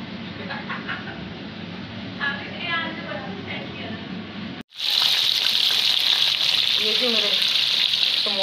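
Samosas frying in oil in a kadai, a steady bright sizzle and bubbling hiss that jumps louder partway through, with people talking over it.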